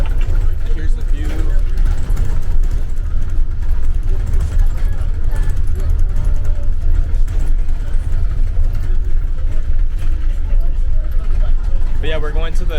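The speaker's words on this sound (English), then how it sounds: "So we're on this bus now, and it's super loud" Inside a shuttle bus in Glacier National Park, a loud, constant low engine drone runs throughout while passengers talk over it.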